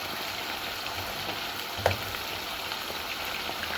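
Homemade potato chips fry in hot oil with a faint, steady sizzle and crackle, broken once by a brief light clink.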